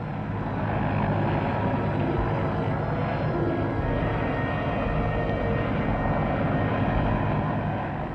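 An RAF aircraft flies low over the jungle, its engine a steady broadband drone that stays loud and even throughout, with no voices.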